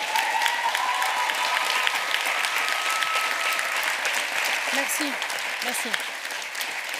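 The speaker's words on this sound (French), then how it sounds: "on applaudisse très très fort à nos 4 finalistes pour cet exercice très difficile" Loud audience applause for four finalists at a French-language eloquence contest final, steady clapping throughout with brief spoken words and voices rising beneath it.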